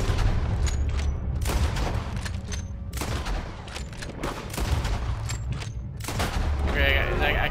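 Rapid gunfire in the Red Dead Redemption 2 video game, loud close shots cracking out in quick bursts and volleys across the whole stretch with heavy booms between them.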